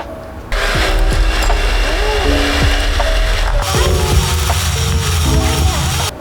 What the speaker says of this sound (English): And then get an electric mixer and then beat until combined.